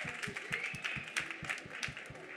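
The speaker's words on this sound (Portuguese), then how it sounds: "Eu quero que vocês deem uma salva de palmas para Arthur Neves." An audience claps steadily for Arthur Neves at a professional event, a rhythmic patter of many hands fairly faint and distant, with no talk over it.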